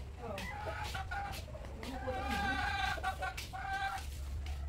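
Chickens cluck and murmur nearby in a rural outdoor setting, soft repeated calls over a low background rumble while people talk.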